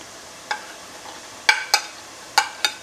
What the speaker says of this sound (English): I will saute this around a bit.